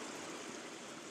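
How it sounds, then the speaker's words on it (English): Small waterfall of a brook running down a hillside at Padley Gorge, a steady broadband rush of flowing water, continuous and fairly faint, with no voices. "just a brook really, running down from the sides of the hill"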